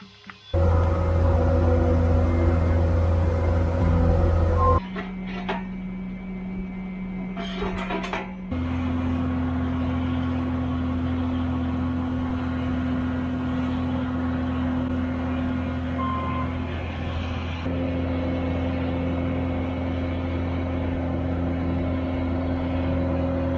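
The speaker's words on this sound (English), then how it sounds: "Just got to hop in the skid loader, bring the welder out." A skid loader engine runs nearby with a steady, loud droning hum, shifting pitch as the throttle changes, briefly dropping to a lower idle before rising again, with no talking.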